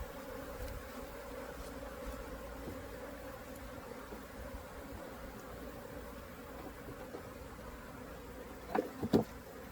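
Steady insect-like buzzing fills the air, a dense continuous hum of many honey bees in a hive infested with small hive beetles, with a couple of brief louder knocks near the end.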